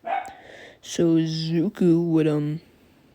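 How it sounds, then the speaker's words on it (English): A dog barks in the background, a few loud barks mixed with a person talking close by, then trailing off into quiet. "Oh my gosh, I'm about to tell my dog to shut up."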